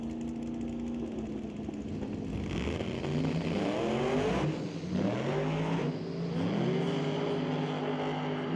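Drag racing trucks launch side by side, a nitrous-assisted truck against a turbocharged S10. Loud engines rev and climb in rising, overlapping roars that swell and shift through the run.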